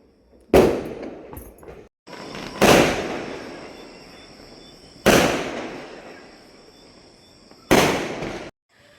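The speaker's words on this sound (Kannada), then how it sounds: "ಸೊ ಬನ್ನಿ ಹೊಡೆಯೋಣ, ಪಟಾಕಿ ಹೊಡೆಯೋಣ" Four loud firecracker bursts at a Tulsi puja, spaced a couple of seconds apart, each a sharp bang trailing into crackling hiss, with quiet gaps between.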